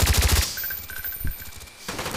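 Rapid, loud FAMAS rifle fire in Call of Duty: Black Ops, a quick burst of close shots followed by softer distant firing and another burst at the end.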